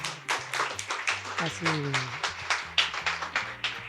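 Audience applauding as a guest steps onto stage at a Bank Indonesia talk event, rapid dense clapping close by with a voice speaking over it.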